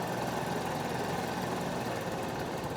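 Motorcycle engine idling steadily during carburetor tuning, its mixture screw being adjusted after the revs were raised; a continuous, fairly loud low chugging drone close by with no voices.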